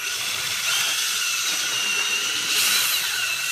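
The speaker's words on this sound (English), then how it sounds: "always use a bigger drill than you think." A steady, high-pitched power tool whine runs throughout, loud and close, with a brief rise in intensity near the end and no voices.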